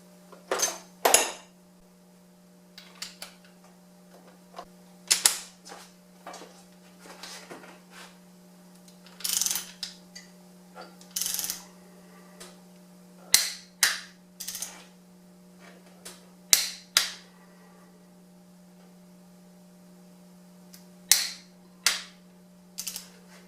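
A torque wrench tightens ARP head studs on a Toyota 3SGTE engine, giving a series of sharp, isolated mechanical clicks and snaps at irregular intervals over a steady low hum, close and fairly loud, with no talking.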